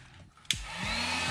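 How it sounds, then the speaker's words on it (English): A heat gun warms the panel surface of a 2009 Honda Accord V6, its fan starting abruptly with a sharp burst, then settling into a steady, close blowing hiss with a faint rising whine. "So next up is to get the heat gun. I'll heat up the surface just a tad bit."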